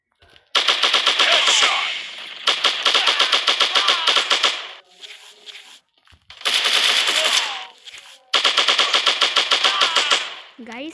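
Automatic gunfire in a PUBG-style shooter game rattles out in four long, rapid bursts separated by short pauses, loud and close, with a voice speaking between the volleys.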